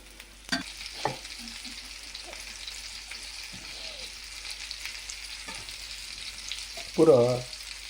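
Fish masala frying in a pan, a soft constant sizzle with scattered scrapes and taps of stirring and a louder clatter near the end.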